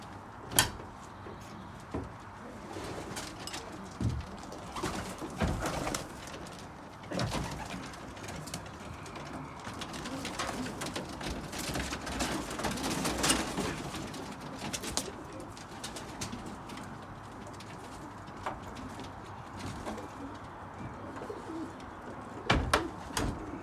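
Racing pigeons coo softly and repeatedly inside a loft, a steady low murmur of calls broken by occasional sharp knocks and clatters like doors or perches being moved.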